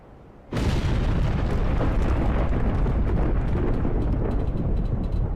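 Explosion in the video game Black Mesa: a sudden loud blast erupts and settles into a sustained, dense roaring rumble that holds steady for several seconds, with no talking.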